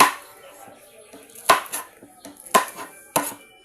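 Knife chops through Baguio beans on a board in a home kitchen, several sharp separate strikes with small clatters of dishes between them, close and fairly quiet.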